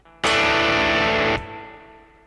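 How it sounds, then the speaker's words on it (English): An electric guitar chord rings out, slightly overdriven through a drive pedal with analog chorus and plate reverb, struck once, sustained about a second, then cut so a reverb tail and ringing notes fade away. "So that's basically the sound he's got, slightly overdriven, lightly chorused and reverbed."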